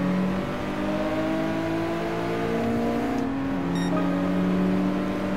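A Ferrari engine in GT Sport revs loudly and steadily on track, its tone climbing and dipping through the gears with a brief shift near the middle, heard alone without talk.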